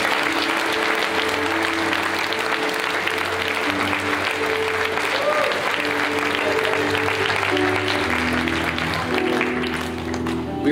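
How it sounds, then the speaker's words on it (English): A church congregation gives a sustained clap offering to the Lord, with a steady wash of many hands clapping over a held organ or keyboard chord. "let's give a clap offering to the Lord."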